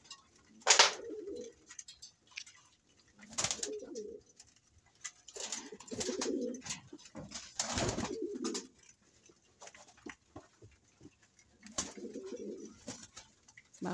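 Pigeons coo repeatedly at close range, soft throaty calls in separate bursts every couple of seconds, with quiet pauses between them.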